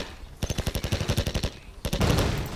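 Assault rifle fire in C&C Generals, two rapid automatic bursts of sharp, evenly spaced shots, the second louder and denser, with no talk.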